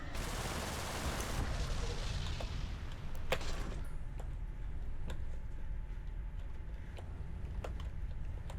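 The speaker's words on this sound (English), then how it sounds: "It's just giving us a rather gorgeous looking explosion." A spaceship explodes in the space combat game Everspace, a dense roaring blast that fades into a long rumbling tail with scattered sharp crackles and pops.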